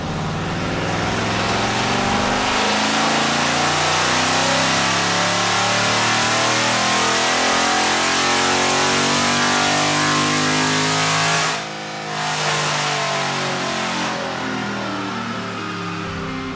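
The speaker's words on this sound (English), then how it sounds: "Now a quick pull on the dyno." A 6.4L Hemi V8 with stock exhaust on a dyno at wide open throttle, the loud engine note climbing steadily for over ten seconds, then a brief lift and a second sustained high-rpm pull.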